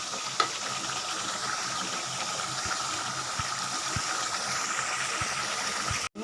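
Tamarind mixture is worked into cooled rice for Nellore puliyodhara, a soft continuous hiss broken by regular dull knocks and scrapes of the stirring spoon, close by and without talk.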